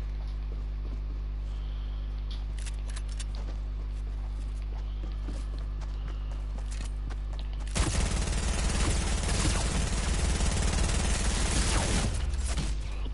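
Fortnite match: quiet game ambience with light footstep-like ticks gives way to about five seconds of dense, rapid gunfire.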